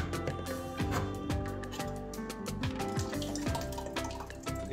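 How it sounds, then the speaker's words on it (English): Coconut milk pours into a pot in a soft, steady liquid trickle with small splashes and metallic knocks from the can, close but quiet, with no talk. "and pour the coconut milk"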